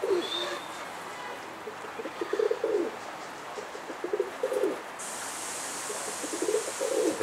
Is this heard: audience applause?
no